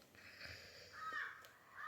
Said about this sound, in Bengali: ভীষণ বাজেভাবে ডাকে কাকটা।